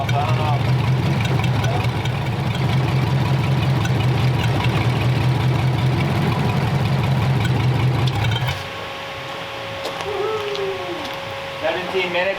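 A flathead engine running on gasoline idles with a steady, low, rhythmic chug under conversation, then shuts off abruptly, leaving quieter background sounds and voices.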